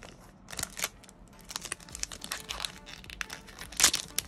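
A One Piece trading card is peeled from its pack and slid into a plastic sleeve. Close, crisp crinkling and rustling of plastic comes in short bursts, with one sharper crackle near the end and no speech.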